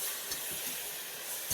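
Tomatoes frying with kasuri methi in a pan give a steady, soft hiss of sizzling, with a few faint stirring scrapes and a brief louder clatter near the end.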